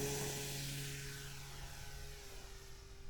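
Faint, steady propeller buzz from an E-flite Super Timber RC airplane in flight, a distant continuous drone that holds throughout.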